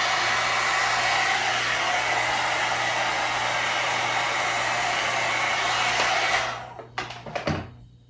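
A hair dryer blows hair in a steady, loud, continuous roar for about six seconds, then switches off, followed by a few soft handling clicks and rustles.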